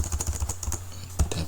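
Typing on a computer keyboard while entering values into a C program, a quick run of close, crisp key clicks followed by a pause and a few more taps, heard alone without talk.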